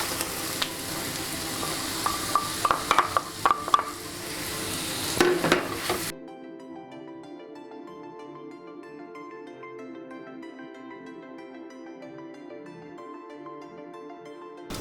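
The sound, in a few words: beetroot pieces stirred and frying in a pan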